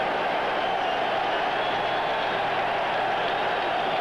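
A dense, continuous roar from a large outdoor football stadium crowd at a Jets–Bills game, steady and loud throughout with no individual voices standing out.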